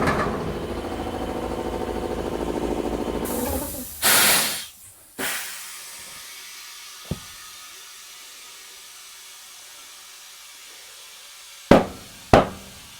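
A pickup truck tire being inflated on its rim: a steady hiss of rushing air, a loud burst of blowing air, then several sharp isolated pops and clacks as the bead seats, with quiet stretches between.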